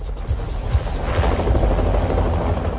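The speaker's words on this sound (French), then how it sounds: "un hélicoptère de la police, Eagle One, est déjà sur place" Police helicopter hovering over a plane crash rescue site, a loud, close rotor thump with a rapid rhythmic chop and a steady roar.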